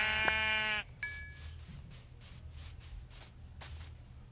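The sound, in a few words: sheep bleating in Minecraft video game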